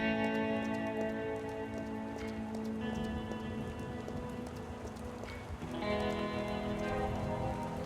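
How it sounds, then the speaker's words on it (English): Rain in the Rue Valley video game: a soft, steady patter of falling drops under sustained musical tones, quiet and continuous with no voices. "The first drops of rain remind you that a storm is coming to deliver its downpour."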